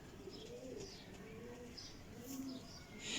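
Salara Kasuri pigeons, male breeder birds in a rooftop loft, coo softly and intermittently in low, rolling phrases, faint against a quiet background hiss with other small bird chirps.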